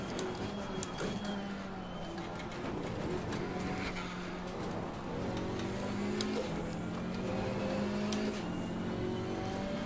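A GT3 race car in Assetto Corsa Competizione draws near at Suzuka amid a big grid. Its engine note climbs steadily and blends with steady engine drone from other cars, loud and continuous throughout.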